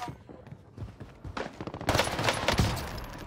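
Gunfire in Call of Duty Warzone on Rebirth Island, a burst of rapid shots building from scattered reports into dense, loud overlapping fire with impacts, close and continuous over the last half.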